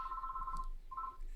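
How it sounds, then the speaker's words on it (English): A telephone rings in two electronic bursts separated by a short pause, loud and close, with no voices. "telephone ringing"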